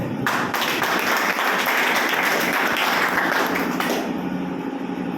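Audience at a motivational business seminar clapping loudly and steadily throughout, a thick continuous wash of applause close to the microphone.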